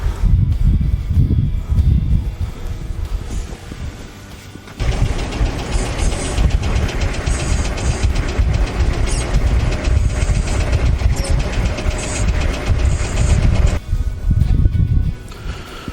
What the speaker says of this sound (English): you're ready to back up and hook up your tractor to the mower